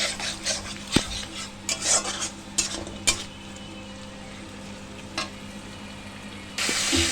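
Yogurt being stirred into spices frying on a low flame for Bengali doi katla, with a soft steady sizzle under scraping spatula strokes and a few sharp clinks against the pan, no talking.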